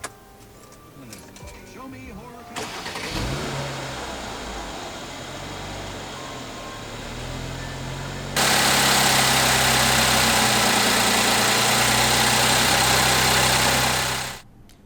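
A 2016 Mercedes-Benz E350's 3.5-liter naturally aspirated direct-injection V6 starts, idles with a low steady rumble, then revs hard into a loud sustained roar before dropping off; faint talk is heard early.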